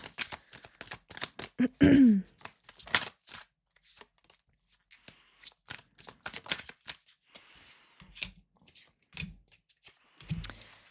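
Tarot cards being shuffled and pulled for a reading, a close run of quick papery flicks and soft taps that thin out into scattered slaps and riffles, with no talking.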